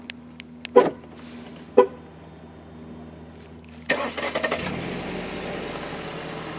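Two short key-fob beeps, then a 2019 Jeep Cherokee Limited's engine cranks and remote-starts, settling into a steady idle.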